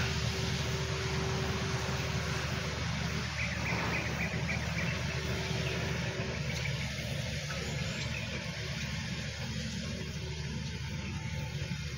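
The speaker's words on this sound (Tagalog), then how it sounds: "Pero di naman lubong kay tungod nga dakog makina." Large harvesting machine running in a rice field, a steady low engine drone that stays even and moderately distant throughout, with faint outdoor ambience and no talk.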